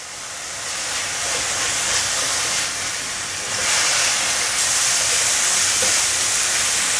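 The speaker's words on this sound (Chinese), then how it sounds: "把所有调味料炒匀" A pan hisses steadily as black salt, cumin powder, white pepper and sugar are stir-fried with burdock and potato. The loud, continuous sizzle swells slightly as the ingredients are tossed.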